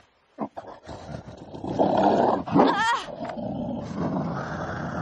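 A wounded Tibetan dog snarling and growling up close, with sharp snaps at first, then a loud rising roar-like growl with a wavering cry, easing into a low, rumbling growl.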